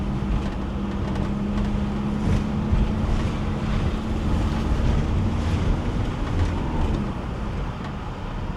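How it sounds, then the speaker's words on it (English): Constant wind buffeting and rushing over the microphone in a car driving from Heraklion to Agios Nikolaos, Greece, mixed with a low droning motor and water-like wash, steady throughout. "It is slightly windy, which is nice."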